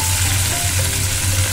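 Tomato paste frying in a pan as the base for a duck egg curry, a steady loud sizzle and crackle throughout, close up with no talking.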